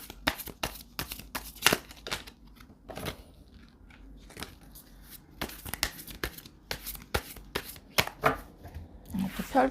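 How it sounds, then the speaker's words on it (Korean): Tarot cards are shuffled by hand in a series of crisp, riffling bursts and soft flicks of varying loudness, close to the listener. "셔플을 하면 되겠네요"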